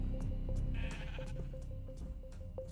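Sheep bleat in Minecraft, several short, nasal calls repeated at irregular intervals over a low background of ambient game sound.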